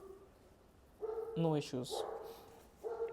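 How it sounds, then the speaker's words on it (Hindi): A dog barks in the background behind someone speaking Hindi, giving a cluster of several yapping barks midway, moderately distant and partly under his voice. "आई नो पीछे कुत्ता भौंक रहा है"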